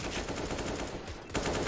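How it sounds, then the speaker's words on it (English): Rapid gunfire in the video game CS:GO on the map Nuke during a FaZe vs Gambit esports match, a dense burst of loud overlapping shots filling the whole short moment. "Cheeky little headshot from Mo"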